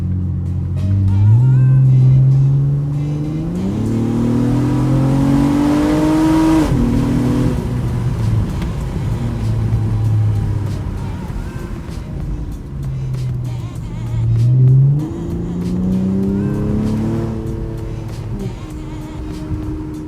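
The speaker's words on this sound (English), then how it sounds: "I went and got a muffler delete, bruh. Listen to this right here." Honda Accord Coupe V6 with a muffler delete driving down a backroad, its exhaust droning loud and close, rising and falling through repeated accelerations and gear shifts across the run.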